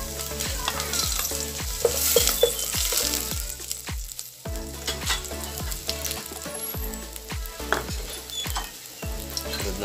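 Onion, garlic and ginger sizzle steadily in hot oil while being stirred, with loud continuous frying crackle and regular scraping strokes of a utensil against the pan, no voices.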